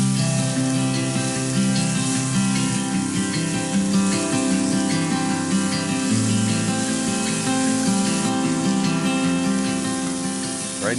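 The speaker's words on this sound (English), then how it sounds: "So what we're looking to do is sear these off, not completely cook them, just searing them off." Food sears in a hot Lodge Cook It All cast-iron cooker used as a wok, giving a steady, loud, continuous sizzle with crackling fat that carries through without pause.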